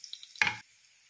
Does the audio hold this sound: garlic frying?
yes